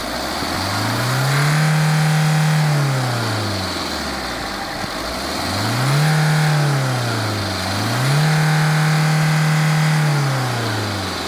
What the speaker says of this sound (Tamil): இந்த என்ஜினோட நாய்ஸ் அண்ட் வைப்ரேஷன் எப்படி இருக்குது அப்படின்றத இந்த வாகனத்தை ஸ்டார்ட் பண்ணி பார்த்து தெரிஞ்சுக்கலாம்